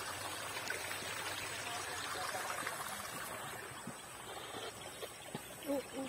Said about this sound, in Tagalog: So, ito yung ilog, lugtong.